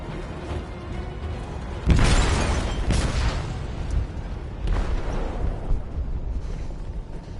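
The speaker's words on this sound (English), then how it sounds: "They detonated an explosive in the hold." A bomb detonates in a ship's hold in the game Detroit: Become Human, with a heavy booming blast followed by rumbling and further thuds as the vessel begins to sink.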